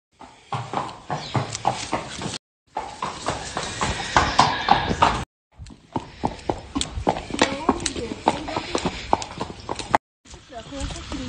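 A horse's hooves clip-clopping in an irregular walking rhythm as it is led into a horse trailer, close and distinct, with the recording cutting out briefly several times.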